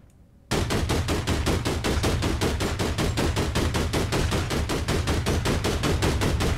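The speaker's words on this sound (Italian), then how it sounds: "Ma lei spari, deve sparare dalla macchina però." Rapid, continuous automatic gunfire fired from a car in the video game APB erupts after a brief quiet moment and keeps hammering in a steady, loud stream of shots.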